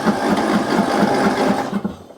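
A non-running lawn mower engine being cranked over after fresh fuel is added gives a steady, rhythmic chugging of evenly spaced pulses, close and fairly loud, that stops abruptly near the end.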